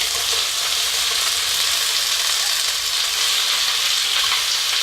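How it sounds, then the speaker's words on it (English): Okra charring in a hot oiled pan gives a continuous, even, bright sizzle and crackle, close up and steady throughout, with no voices. "This is what charred okra sounds like, I guess."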